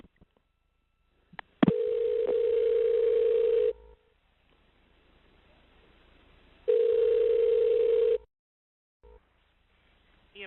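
Telephone ring tones on a 911 emergency line as the call is transferred to EMS: two long steady electronic tones separated by a pause, loud and clear, with a brief click before the first.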